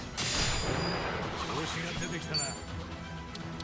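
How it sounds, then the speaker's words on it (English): Shots from the Tomizawa weapon in a video game ring out in a dense burst of impacts and blasts, loud and continuous over a busy mix of game noise. "I guess we can just try and shoot it with Tomizawa."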